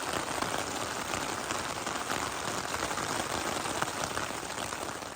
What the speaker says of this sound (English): You can see the rain coming off it